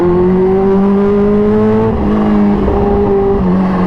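Kawasaki Ninja H2 superbike riding through night traffic, its engine a loud, close, steady drone that shifts pitch as the revs change, with no talk over it.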